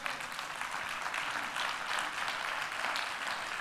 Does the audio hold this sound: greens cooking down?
no